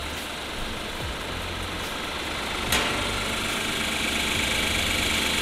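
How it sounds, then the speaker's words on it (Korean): A Genesis G90 3.8 AWD engine idles with the engine bay open, giving a steady, even hum with a low rumble and a faint high whine, close and constant, with no talking. "엔진 소리 일정합니다."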